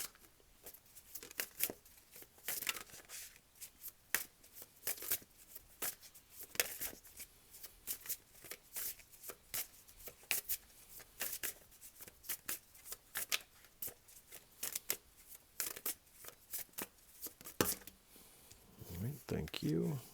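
Tarot cards are shuffled and drawn during a reading, giving a long run of quiet riffling, flicking and slapping card sounds, close and fairly faint, with a voice speaking near the end.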